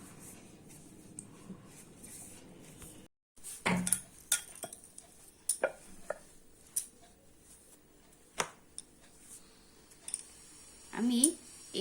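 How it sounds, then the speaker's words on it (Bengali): Dough balls for Bengali kochuri being rolled out one by one, with quiet rolling and scattered sharp clicks and knocks of the rolling pin against the board, separated by short pauses, under low background noise. "আমি এইভাবে লেচিগুলো বেলে নেব, একটা একটা করে সব বেলে নেব।"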